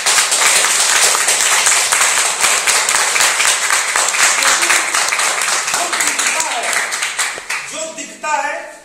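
Audience clapping in a steady, loud burst, with voices talking in the background and the clapping tapering off near the end as speech takes over.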